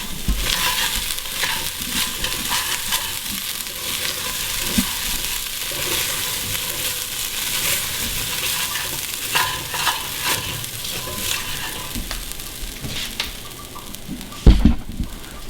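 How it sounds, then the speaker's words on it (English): Soaked rice and beans for kitchari stirred in a pot, a close steady scraping and wet shuffling with light sizzle, punctuated by a sharp knock of the spoon near the end, no speech. "So I'm gonna stir all the rice and the beans."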